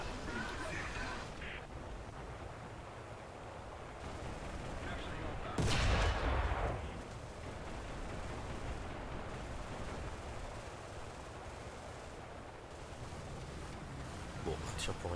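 Tank cannon firing in a WWII-style squad video game with a T-70 light tank: a single heavy, fairly distant boom with a rumbling tail, set against steady in-game engine and battlefield noise.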